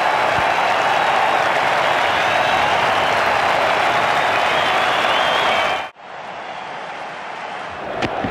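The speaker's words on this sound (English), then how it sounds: "Listen to the crowd." A large cricket stadium crowd in Australia cheers and applauds a Test match victory, a loud, dense, sustained roar of clapping that cuts off abruptly partway through to a quieter room tone.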